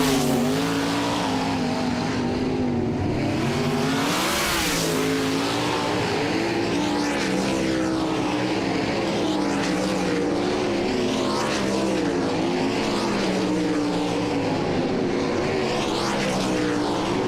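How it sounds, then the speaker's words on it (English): World of Outlaws sprint cars come back up to speed after a slowdown at Volusia Speedway Park. A loud, continuous roar of several engines drones and rises steadily, with passing cars swelling and fading throughout. "And so once again, we will bring the cars back up to speed."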